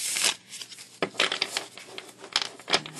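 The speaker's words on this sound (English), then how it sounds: "Stiff enough that this kind of shuffle is almost actually quite difficult there." A thick, stiff-cardstock Zombie Tarot deck is shuffled by hand, producing close, loud bursts of papery riffling and slapping clatter in irregular clusters.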